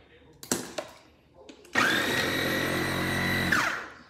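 A KitchenAid food processor starts after a few clicks and knocks, whirring steadily with a loud high motor whine for about two seconds, then spinning down. Close and alone.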